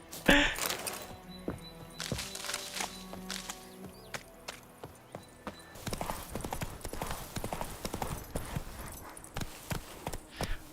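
Hooves of Roach, Geralt's horse in The Witcher 3, clop in a fast, regular rhythm on hard ground, close and clear, running the whole stretch and quickening in the second half, with faint game ambience behind.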